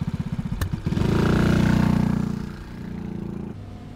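A newer four-stroke motorcycle engine, close by, chugs in a steady pulsing rhythm, then revs up into a loud, sustained drone that eases off and settles back into a lower, throbbing run, with no voices.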